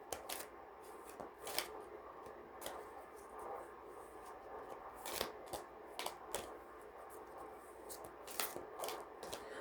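A tarot card deck being shuffled, giving repeated crisp riffles and flicks of cards in an irregular rhythm, close and fairly quiet, with no voices.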